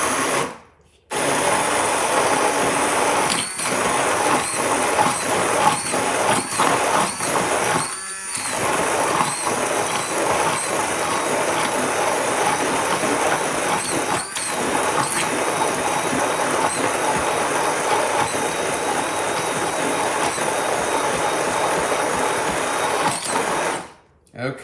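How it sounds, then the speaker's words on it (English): An immersion blender whirs loudly through a chipotle sauce for over twenty seconds, a dense buzzing drone with brief pauses and changes in load as the blade churns. The noise runs almost nonstop and stops near the end. "So I've got an immersion blender."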